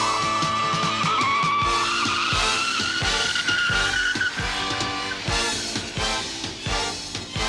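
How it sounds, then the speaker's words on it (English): A motorcycle brakes hard on its front brake to a complete stop during rider training, letting out a long rising tire squeal over a pulsing engine, loud and close, with no talking. "So you're going to stay on the front brake, come all the way down to complete stop."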